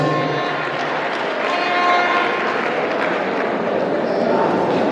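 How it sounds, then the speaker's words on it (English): An audience at a leadership summit in Delta State claps in dense, sustained applause that fills the whole stretch, with a voice carrying over it. "Please, a round of applause."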